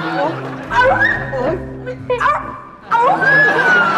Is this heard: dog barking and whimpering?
yes